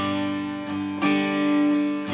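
Acoustic guitar strummed slowly through the chords of a song, starting on a four-finger G; sustained ringing strums with fresh attacks near 0.7, 1.0 and 1.7 seconds, close and clear with no voices.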